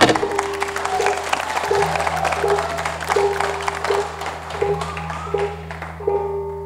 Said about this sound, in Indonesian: Tepuk tangan untuk sangar paripurna.